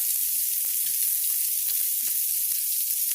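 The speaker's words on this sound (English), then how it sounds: "Alright, it's been grilling for about 4, maybe 5 minutes now." Spicy chicken wings sizzle steadily on a grill, a constant crackling hiss with small pops scattered through, close and unbroken.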